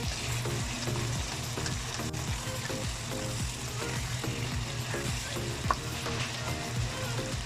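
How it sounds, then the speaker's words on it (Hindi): Beef sizzles and fries steadily in a pan as yogurt goes in, with a continuous crackling hiss and occasional stirring scrapes, no talk. "अभी इसमें भी हम ऐड करेंगे 1 कप दही का"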